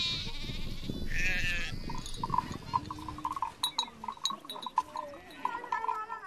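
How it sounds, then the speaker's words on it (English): Red Maasai sheep bleat in a pastoral setting, several short wavering calls following one another at moderate distance over faint background noise, with a voice briefly present early on. "Farmers are now reintroducing the red Maasai sheep and crossbreeding them with other sheep."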